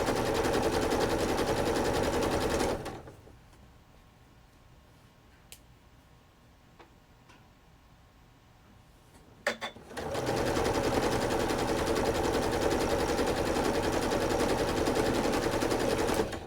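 Sewing machine stitching a thin fabric strip onto a baby quilt backing, running loud and steady for about three seconds, stopping for a quiet pause with small handling ticks, then resuming its fast, even whir to the end.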